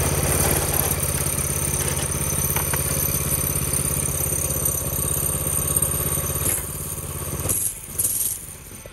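A vintage go-kart's small engine idles steadily after a pull start, a close, continuous putter with a slight rattle, dipping briefly near the end as the throttle shifts.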